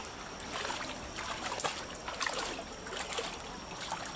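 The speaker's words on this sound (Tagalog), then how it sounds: "Pasok yung tubig sa loob ng bahay." Floodwater pours into a house, a steady hissing rush with trickling and splashing throughout, with no voices over it.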